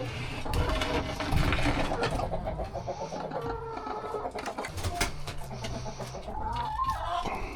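Chickens cluck in a busy, continuous chorus close by, with a mechanical rattling texture and scattered noises mixed in.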